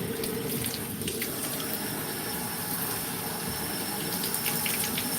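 Tap water running steadily into a kitchen sink while something is washed during home cooking, a constant close gushing splash with no pauses.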